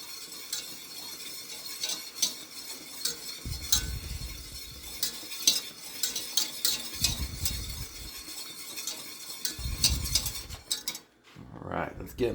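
Cheese is stirred and folded into a roux in a pan for mac and cheese, with repeated scraping and clinking of a utensil against the pan and soft low thumps, fairly close and with no talk.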